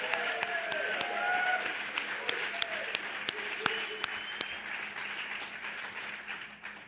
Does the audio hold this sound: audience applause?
yes